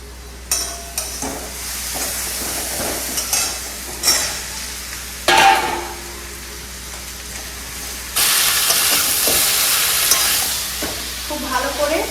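Pumpkin, garlic, potato and greens stalks fry in a pan with a steady sizzle, broken by scraping stirs. A louder burst of hissing steam comes near the end.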